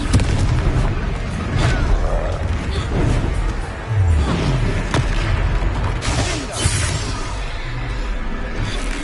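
A blasting spell goes off during a boss fight in the video game Hogwarts Legacy, with heavy booming impacts and crashing debris over a dense, loud battle soundscape that runs through the whole clip.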